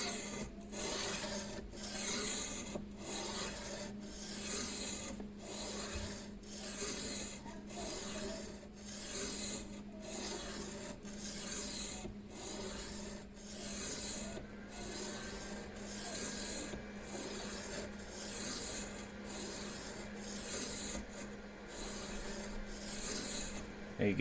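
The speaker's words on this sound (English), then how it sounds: "you can hear the first few strokes are really coarse, really gritty sounding" A knife edge drawn repeatedly across the stone of a Ruixin Pro precision sharpener, each stroke a coarse, gritty rasp, steady and close, about one every second with no talking.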